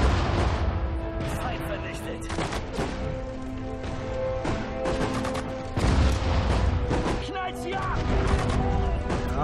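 A Sudden Strike 4 Dunkirk battle rumbles with artillery booms, rapid gunfire bursts and crashing explosions. They pile up densely over a droning score, with a heavy blast hitting midway.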